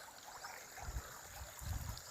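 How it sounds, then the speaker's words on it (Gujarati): Irrigation water flows steadily into a wheat field, a soft continuous trickle and gurgle nearby with two brief louder low surges, no talking. "આપણા ઘઉંમાં પાણી હાલે"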